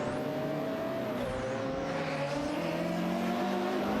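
Race cars, a Jaguar XJ220 and a Lamborghini Diablo, howl through a racing video game, sustained high engine tones rising and falling with gear changes and a constant roar beneath.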